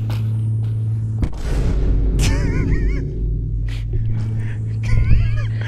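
A T4 explosive detonates in a video game, a loud broadband blast near the start followed by rumbling debris, with steady game background hum and chirpy tonal effects afterward.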